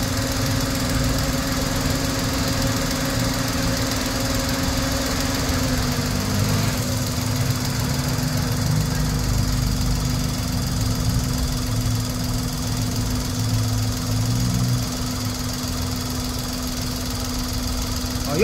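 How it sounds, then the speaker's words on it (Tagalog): Hyundai Eon engine idling with its radiator cooling fan running after overheating, a steady close mechanical hum and whirr with a constant engine drone throughout. "Andar na po yung pan."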